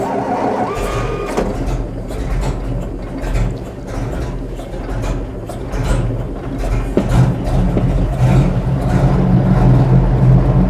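A 1927 Mercedes 680S touring car's large engine starts and rumbles, building into louder revving with a deep, throbbing exhaust and mechanical clatter close by.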